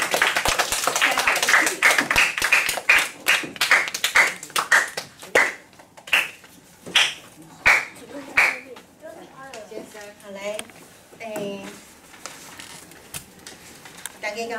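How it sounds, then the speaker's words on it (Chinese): Clapping welcoming a teacher after a children's Min-language reading contest, a brisk round of hand claps from a small group that thins into scattered claps, with a voice speaking over the last part. "那我们现在以热烈掌声哈，欢迎我们的秀兰老师为各位做讲评"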